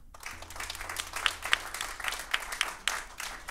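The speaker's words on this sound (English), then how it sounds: "we have a round of applause for Stephen McCartney in the middle." Scattered clapping from a small audience at a songwriters showcase in Belfast, with a few sharper, closer claps standing out from the softer background patter.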